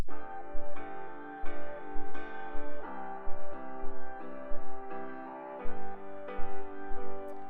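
Piano chords play in a steady, bouncing rhythm over a soft low beat, with a repeating pattern of struck notes and no voices.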